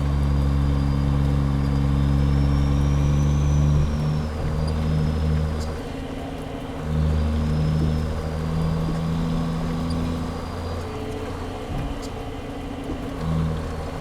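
A Cummins Big Cam diesel engine drives a logging truck in Canada, running with a steady low rumble close to the cab, dipping and swelling as the load on the engine changes.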